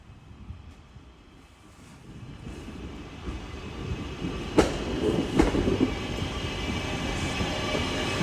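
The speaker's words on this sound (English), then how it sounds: "A Northern Class 323 arriving in to terminate here at Stoke-On-Trent." A Northern Class 323 electric train pulls into Stoke-on-Trent station to terminate, its rumble building as it approaches, with wheel clicks and a couple of sharp rail squeals over a steady hum.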